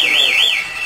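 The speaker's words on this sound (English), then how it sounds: "they will have the loud alarm." A loud home security alarm sounds as a steady electronic siren, its piercing tone sweeping up and down in a smooth wavering pattern, close and continuous with no other sound.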